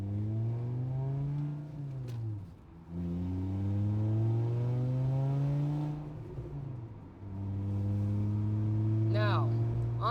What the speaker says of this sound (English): I'm going to rev match the second, and there it goes.